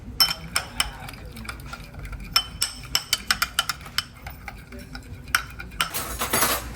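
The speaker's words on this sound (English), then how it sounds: "after putting a little bit of sweet chili sauce in with the mayo and ketchup, mixing it up" A utensil stirs sweet chili sauce into mayo and ketchup in a dish, giving a rapid run of close, crisp clinks and scrapes that ends in a brief rustle.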